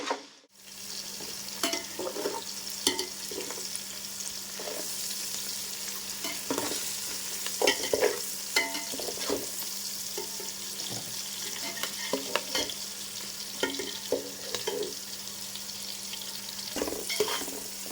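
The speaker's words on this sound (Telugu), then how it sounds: "ఈ ఆనియన్స్ మనకు గోల్డెన్ బ్రౌన్ కలర్లోకి వచ్చేంత వరకు బాగా ఫ్రై చేసుకోవాలి" Onions frying in a pan for egg pulao, browning toward golden, with a steady close sizzle broken by repeated stirring scrapes throughout, no voices.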